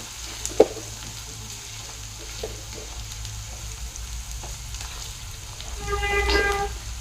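Chopped onions fry in a pan for dhaba-style paneer bhurji. There is a quiet, steady sizzle with a few light clinks and a brief louder stir near the end, and no voices.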